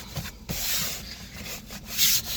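A fabric seat cover edge is pushed and tucked behind plastic trim in a 2001-2004 Toyota Tacoma, giving close, soft rubbing and scuffing sounds with a few brief scrapes.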